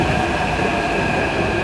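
A Hyderabad metro train at the station gives a steady, loud rumble with a constant high whine, continuous throughout with no talking.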